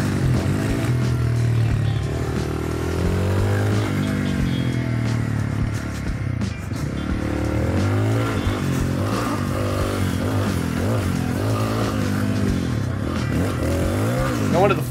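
Honda XR301 (CRF300L) supermoto motorcycle lapping a racetrack at a track day, its engine droning steadily and rising and falling in pitch with throttle and gear changes, loud and continuous from onboard.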